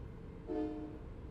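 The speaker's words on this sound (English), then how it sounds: "Accidentally honked my horn." A truck horn in American Truck Simulator gives one brief, fairly faint honk over a steady low engine and road drone.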